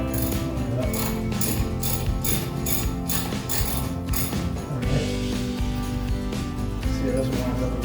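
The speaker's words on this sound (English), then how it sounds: "got this transmission bolt in over here, so I'm gonna tighten this" A hand ratchet tightens a transmission bolt during engine installation on a Porsche 911T, its rapid clicking pawl bursts repeating in quick strokes close by, with mechanical clatter throughout.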